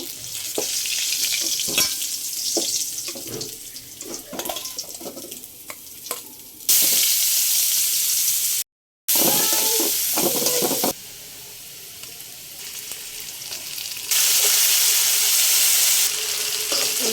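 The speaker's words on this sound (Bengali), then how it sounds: "এই যে আমার মাছটা ভাজা হয়ে গেছে এখন আমি উঠিয়ে নিব" Turmeric-and-chili-coated koi fish frying in oil, a continuous crackling sizzle that swells louder in the second half, with a momentary break and occasional stirring sounds, no one speaking.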